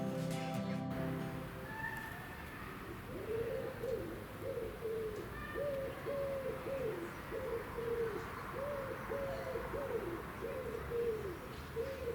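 A pigeon coos in a repeated rhythmic series of low, soft phrases, fairly close, over quiet outdoor background noise.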